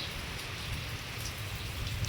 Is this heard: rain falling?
yes